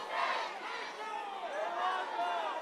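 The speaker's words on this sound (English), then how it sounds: "You can hear the crowd is definitely getting into it." Penn State fans cheer and chant songs at a women's rugby championship match, a faint, distant crowd roar with swelling sung voices. A commentator's voice runs over it.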